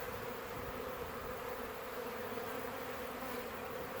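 A swarm of honey bees settled on a branch gives off a dense, continuous buzzing hum, steady and fairly loud, with no voices over it.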